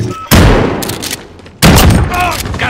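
Loud, close bursts of automatic gunfire in Call of Duty: Modern Warfare, two sustained volleys with booming impacts and rattling echoes, with brief game voice callouts between them.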